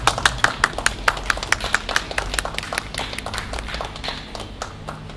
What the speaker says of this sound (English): I just give a warm ripple of applause for the trio.